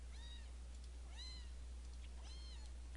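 A cat meows three times within the video game Meadow, each call clear and evenly spaced, over a steady low hum with no talking.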